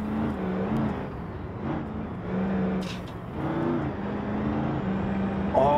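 An offroad hypercar drives in BeamNG.drive, its engine a steady, moderately loud drone with low tonal hum and rising and falling revs, running alone with no talk.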